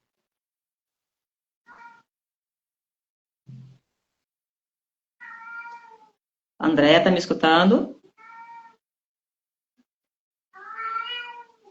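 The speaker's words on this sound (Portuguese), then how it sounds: "Meu gato quer participar da live também, gente. Começou a miar aqui." A pet cat meowing indoors during a live stream, with several separate meows spread out, one louder drawn-out call in the middle, and a person speaking briefly between them.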